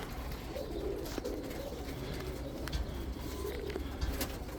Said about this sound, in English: I'm in here with the black widow birds